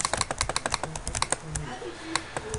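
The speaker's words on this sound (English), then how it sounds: "you'll be able to hear me clicking away at everything whenever I go to, well, click something" Rapid, crisp computer mouse clicks during a Terraria game session, coming in quick irregular bursts over a low layer of background sound.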